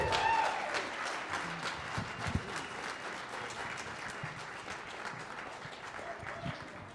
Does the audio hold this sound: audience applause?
yes